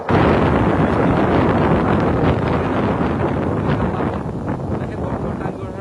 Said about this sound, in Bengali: বাইরে প্রচণ্ড ঝড় বৃষ্টি হচ্ছে বাতাস হচ্ছে